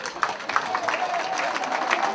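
Steady applause fills a gala dinner as the audience claps for the women, dense overlapping hand claps with a few sharper peaks, moderately loud and continuous throughout.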